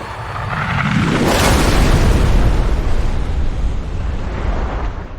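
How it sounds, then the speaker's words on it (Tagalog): A loud, crashing plane-crash explosion bursts out and swells into a deep, roaring rumble that keeps booming without much fading. "bago bumagsak ang eroplano na nagdulot ng isa na namang pagsabog"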